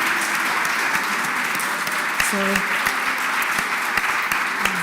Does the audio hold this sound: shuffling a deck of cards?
no